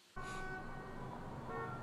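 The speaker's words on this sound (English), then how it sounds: "What's all the honking?" Car horns honk in traffic as people flee a city in the TV series The Stand, a sustained tooting blare over low road noise that starts abruptly and holds, moderately loud.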